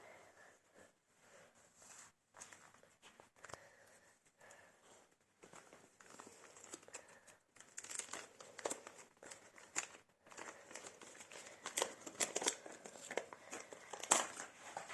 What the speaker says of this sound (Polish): otwieramy pierwszą saszetkę